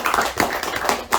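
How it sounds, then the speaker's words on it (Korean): An audience at a Friday book talk claps to welcome a visiting professor: a handful of scattered, fairly close claps in a short burst, sparse rather than a full ovation. "박수로 맞아주세요"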